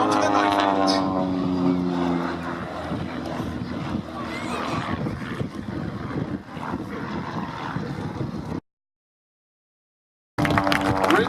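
At the Biggin Hill Air Show 2017, the Trig aerobatic team's propeller aircraft drone under loudspeaker commentary, then the sound cuts out briefly before returning.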